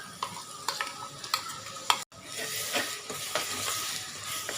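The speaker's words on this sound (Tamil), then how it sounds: "மசாலா நல்லா வதக்கிங்க" Ground masala paste with ginger and garlic sautéing for Chettinad crab masala, a steady close sizzle broken by scraping stir strokes and a brief pause midway.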